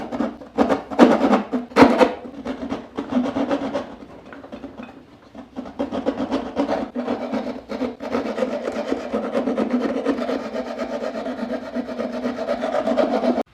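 A fine rasp files an oblong hole cut in wood, giving steady scraping strokes close up with a few sharp knocks at the start, then continuous rhythmic rubbing.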